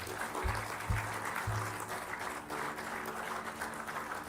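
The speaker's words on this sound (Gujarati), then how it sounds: "તાળીઓ વાગતી રહેવી જોઈએ" An audience at an evening lecture event claps to welcome a guest speaker, a faint, even patter of applause sustained throughout with a low hum underneath.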